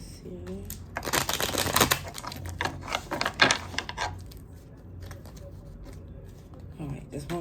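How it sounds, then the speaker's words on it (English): A deck of playing cards is shuffled in several riffling bursts, crisp and close, with quieter card handling between them and a voice speaking briefly near the end. "just one more good shuffle"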